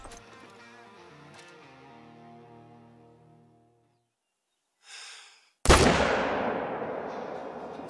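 A loud, sharp rifle shot fired at a stag about 300 yards away in the hunting game Call of the Wild, a sudden crack with a long rolling echo that decays over several seconds after a quiet pause.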